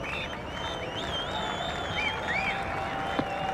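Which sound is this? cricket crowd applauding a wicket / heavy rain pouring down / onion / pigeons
cricket crowd applauding a wicket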